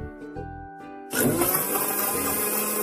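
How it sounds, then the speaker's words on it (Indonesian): A tonal hum gives way to a loud electric blender whirring steadily through milk, sugar and ice cubes for the remaining seconds. "turn off the blender"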